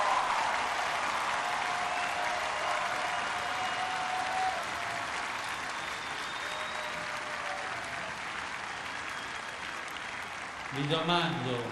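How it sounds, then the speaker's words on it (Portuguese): A huge crowd of young people applauds at a papal World Youth Day gathering, a dense, sustained roar of clapping that stays steady throughout, with a voice rising near the end. "Um aplauso ao Senhor, a Jesus"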